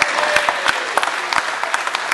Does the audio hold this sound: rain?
no